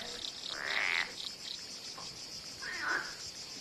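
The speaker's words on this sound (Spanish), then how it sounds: "Las ranas se entregan a los rituales del cortejo en un marco de reposapiés decorados con motivos vegetales." Frogs calling in a courtship chorus, two raspy croaking bursts rising over a steady high insect-like trill, moderately near in a quiet night setting.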